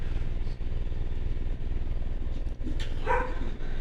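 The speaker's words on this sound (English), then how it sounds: "My apologies if you can hear my dog barking in the background." A dog barks a couple of times in the background, faint and distant, over a steady low engine-like rumble.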